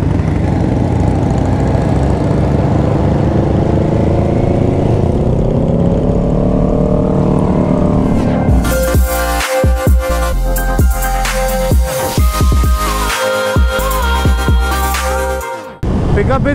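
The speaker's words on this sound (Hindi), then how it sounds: "तो I am riding H2 SX SE now." Kawasaki H2 SX SE superbike engine while riding on an Indian highway. The engine note climbs and drones loudly, then gives way to heavy, rushing wind noise with sharp buffeting until it cuts off near the end.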